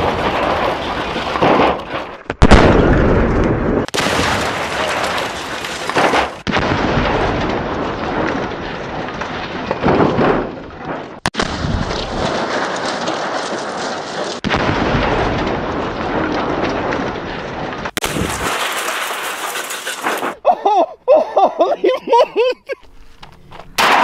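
A grenade detonates against a vending machine, a loud blast and rumbling debris amid a string of heavy booms and crashes, ending in scattered clattering fragments.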